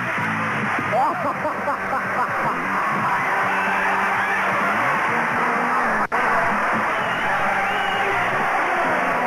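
A game show studio audience cheers and applauds in a continuous roar of clapping, whoops and yells that holds steady at moderate loudness, with a sharp click partway through.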